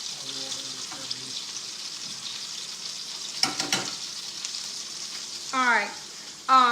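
Battered frozen zucchini frying in a skillet with a steady bright sizzle, broken by brief clatters and a short burst of louder spattering near the end; a voice is heard faintly at moments.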